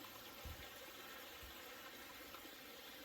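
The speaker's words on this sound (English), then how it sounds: "And just a flowing creek." Soft, continuous rush of a flowing creek along a trail on the Appalachian Trail, faint and steady with a couple of low thumps near the start.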